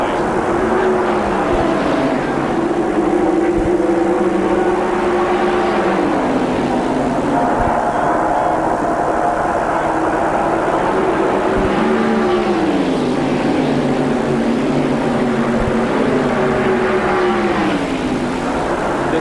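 NASCAR Winston Cup stock cars from 1994 roar around the track at the Winston Select 500, loud engine drones rising and falling in pitch as cars pass close by.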